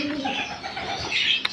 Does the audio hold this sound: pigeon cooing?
yes